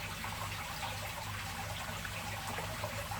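Sand is sprinkled onto glue during a bonsai tree aquarium build, a faint, continuous soft trickling hiss up close with no talking.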